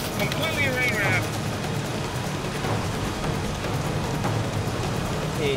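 Heavy rain pours in a dense, steady roar during a rain-wrapped tornado, loud and unbroken from start to finish, with brief faint tonal sounds early on.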